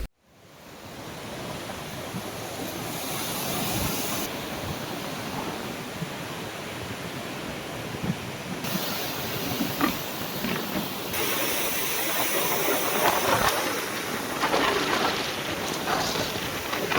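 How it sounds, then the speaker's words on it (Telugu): Flood water pours through two opened gates of a barrage, a loud, broad and unbroken roar of rushing water that swells slightly in the later part, with no talk over it. "మినీ సదర్మాట్ బ్యారేజ్ కు భారీగా వరద నీరు చేరుతుండటంతో 2 గేట్లను తెరిచి నీటిని కిందికి విడుదల చేస్తున్నామని"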